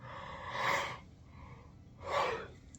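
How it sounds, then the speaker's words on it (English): A sick person gives two long, breathy yawns about a second apart. Each is an airy inhale-exhale swell, close and moderately loud, with a quiet pause between them. "my fucking body has a fucking yawn every time I want to speak"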